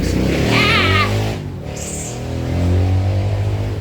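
A nearby motorcycle engine revs up and settles into a rough idle, with a brief higher whine in the middle.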